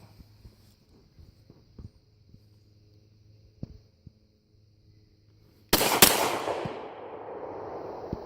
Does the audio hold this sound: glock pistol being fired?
yes